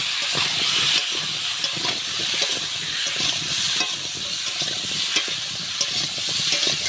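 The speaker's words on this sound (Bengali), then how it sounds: "আলু আর পেঁপেটা আমি সুন্দর করে ভেজে নেব" Potato and papaya frying slowly in oil in a village Bengali kitchen, a steady broad sizzle with scattered scrapes and clicks of stirring throughout, close and continuous with no voices.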